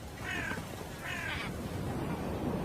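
Two harsh caws from crows that trail a hunting eagle, each roughly half a second long and spaced about a second apart, heard at moderate distance over a steady background rush of wind or sea.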